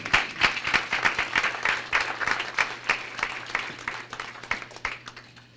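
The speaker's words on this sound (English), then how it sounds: "Please give him a round of applause." A room of attendees at a community luncheon event gives sustained applause, steady dense clapping across several seconds, moderately loud with a low constant hum underneath and no speech.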